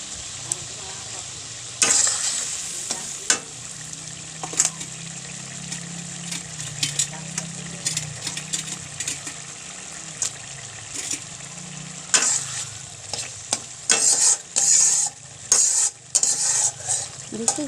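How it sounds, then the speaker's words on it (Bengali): Fish goes into a spicy curry simmering in a pan, giving a steady bubbling sizzle with scraping and stirring clatter and sharp crackling bursts toward the end; no talk. "এখন আমি মাছ দিয়ে দেব"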